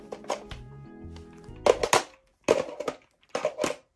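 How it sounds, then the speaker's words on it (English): A modular toy blaster pistol being reloaded, with a series of sharp plastic clicks and clacks in short bursts, close and fairly loud against a quiet background. "I'm gonna reload it just for the sake of reload."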